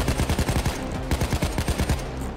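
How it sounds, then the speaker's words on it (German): Rapid bursts of automatic gunfire from the PayDay 2 game fill the moment, close and loud, with short stuttering volleys repeating steadily throughout. "Ah, ich habe den ins Knie geschossen."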